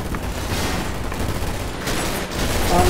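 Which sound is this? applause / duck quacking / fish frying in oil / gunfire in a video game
gunfire in a video game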